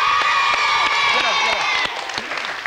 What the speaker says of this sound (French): Et on les applaudit encore.